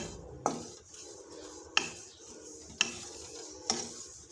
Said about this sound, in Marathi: तुम्ही पाहू शकता पा किती मस्त भाजत आहे हे खोबरं